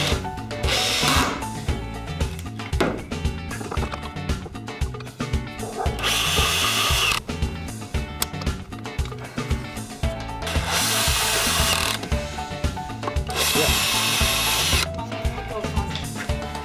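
A power drill drives short screws into wood while a folding-table garden bench is built, with repeated bursts of motor whine and screwing, several separate runs, close and loud.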